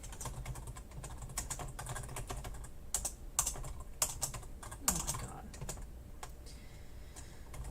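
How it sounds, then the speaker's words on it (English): Fingers tap on a computer keyboard in irregular bursts of crisp key clicks, close and fairly quiet, with short pauses between runs. "Focused on typing."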